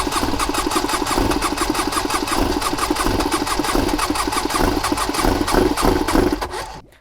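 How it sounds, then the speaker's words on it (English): A cheap jet ski's engine cranks on a new starter, a loud, close, rapid chugging churn that runs without catching for nearly seven seconds, then cuts off abruptly. "That new starter is really putting in the work."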